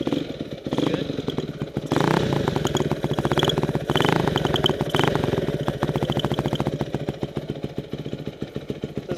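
Freshly rebuilt Honda CRF250R dirt bike idling close by, a rapid steady putter with metallic clatter and a brief rev swell near the two- and four-second marks, running throughout without voices.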